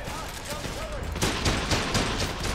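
Rapid gunfire bursts from the shooter game Trepang 2, dense and close, with a spoken voice nearby over the shots.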